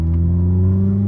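A Mazda Miata engine running on a test drive after repair work, giving a steady, loud, close drone with strong low harmonics and no change in pitch.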